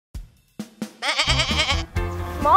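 Goats bleat in short, nasal calls, a few brief cries followed by longer wavering bleats close by, with no talking.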